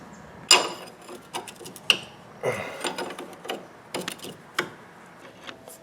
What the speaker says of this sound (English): We're going to take this sway bar link off to start with